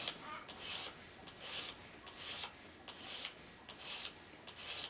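A blade is sharpened by hand to raise a burr, heard as a steady run of about seven rhythmic rasping strokes across the stone, close and fairly quiet, each pass rising and fading evenly.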